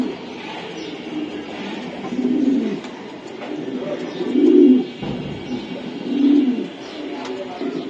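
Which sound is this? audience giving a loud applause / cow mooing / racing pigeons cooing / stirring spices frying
racing pigeons cooing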